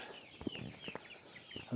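Tiger breed chickens on a farm cluck softly in short, scattered bursts, faint and fairly close against a quiet background.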